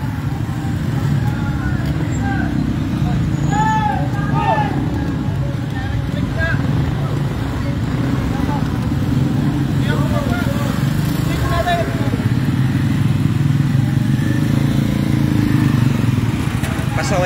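Street traffic streams past during a town fiesta grand parade, with motorcycles and cars rumbling steadily in a continuous roadway wash, while people talk over it throughout.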